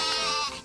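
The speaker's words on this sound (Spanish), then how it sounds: "Oveja." A single loud, close cartoon sheep bleat from a children's Bible animation, a sustained wavering cry that fades slightly at the end.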